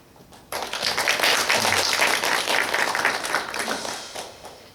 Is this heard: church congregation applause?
yes